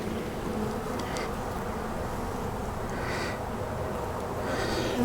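Honeybees hum at an opened beehive during an inspection, a dense, steady buzz close by, with a few louder passes as bees fly near.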